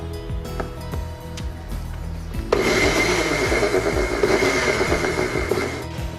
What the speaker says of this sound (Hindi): अब हम इसको ग्राइंड कर लेंगे।